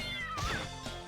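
Kittens thrown as attacks in the video game Castlevania: Dawn of Sorrow let out loud, close meows, a drawn-out wavering cry followed by shorter mews over a steady game background.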